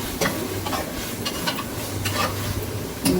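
Onions sizzle in a pan for a mutton curry while a spoon stirs and scrapes against the metal in quick close strokes over a steady frying hiss.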